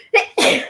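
A single sneeze, a quick sharp inhale followed by a loud, explosive burst, close to the microphone.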